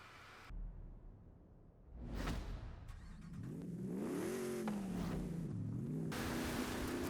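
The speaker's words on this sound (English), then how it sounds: "So, off we go in the Toyota Tundra" Toyota Tundra pickup driven in Forza Horizon 5, its engine revving up and holding a steady droning pitch that rises and dips as it accelerates, loud and continuous with no talking.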